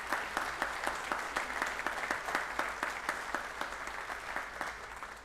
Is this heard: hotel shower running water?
no